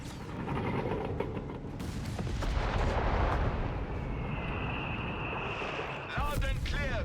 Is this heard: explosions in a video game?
yes